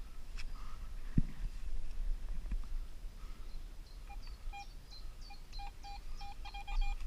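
A Garrett AT Pro metal detector sweeping ground in a forest gives a run of short, repeated electronic beeps in its second half, over a steady outdoor background.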